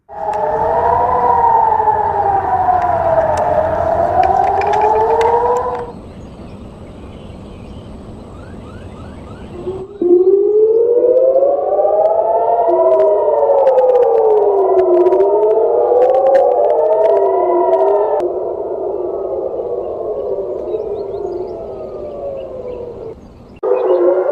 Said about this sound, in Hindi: सायरन की आवाजें आ रही हैं क्योंकि ईरान ने एक और मिसाइल हमला कर दिया है।